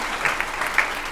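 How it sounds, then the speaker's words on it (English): Brief applause from a summit audience, a short wash of clapping with a few distinct claps standing out over a low hall background. "I feel like you're going to get a round of applause for that."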